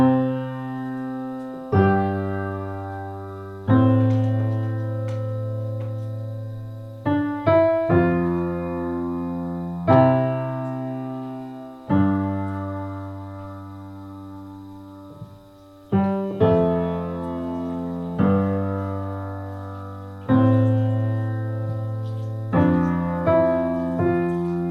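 Solo piano plays a simple arrangement of a song, with slow chords and single notes struck one after another, each decaying, clear and close with no talking.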